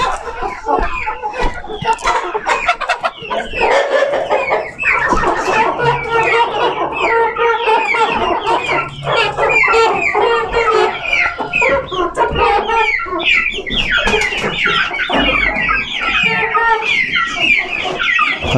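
Ameraucana chickens, the blue-egg layers, cluck and squawk steadily in a coop, a dense near chorus of overlapping calls throughout with occasional louder cries.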